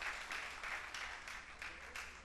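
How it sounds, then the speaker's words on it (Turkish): Audience applause for arranger Hüseyin Araboğlu at a Turkish stage show, a steady wash of many hands clapping at moderate distance, fairly even throughout with slight surges, no one speaking over it. "Hüseyin Araboğlu'na bir alkış alalım."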